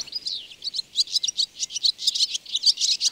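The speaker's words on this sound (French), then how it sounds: "Le chardonneret, c'est un vrai petit oiseau des îles." European goldfinch song in the countryside: a rapid, bright run of twittering chirps and trills that keeps going without a break and sounds fairly close and clear over a quiet background.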